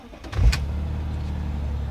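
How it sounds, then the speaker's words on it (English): A BMW S50B32 engine cranks and fires up, a short starter burst followed by a steady low idle that settles and hums on evenly, close by and with no talk. "Engine start."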